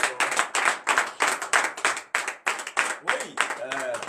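A church congregation at morning prayer claps in a loud, irregular burst of applause, with voices calling out over and between the claps.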